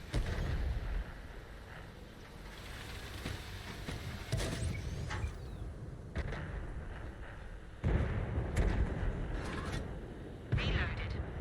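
In a tank battle video game, heavy cannon shots boom nearby in several loud blasts over engine rumble and battlefield noise, with crew voices talking.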